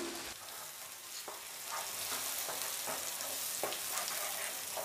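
Kachri chutney is stirred with a spoon in a hot oiled pan over a gas flame, producing a constant bright sizzle broken by several soft scraping strokes.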